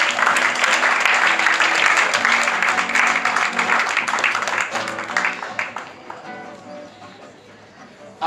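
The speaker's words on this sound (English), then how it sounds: "Warm round of applause for these three." Audience at a mentalist stage show claps warmly, a full round of applause that holds strong for about five seconds before thinning to scattered claps, with a voice and some musical tones underneath.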